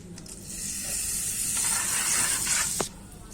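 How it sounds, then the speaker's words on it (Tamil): Curry leaves dropped into hot oil in a home kitchen, giving a loud, bright sizzling hiss that swells for a couple of seconds before a sharp spit and quick fade, with no talking. "அடுத்து பார்த்தீங்கன்னாக்கா கருவேப்பிலை சேர்த்துக்கிறேன்"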